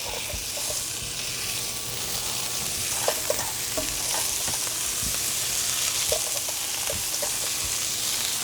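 Fish sizzles steadily on a Fisher & Paykel induction cooktop, a constant bright frying hiss with scattered soft clicks and taps from utensils, close and unbroken with no talking.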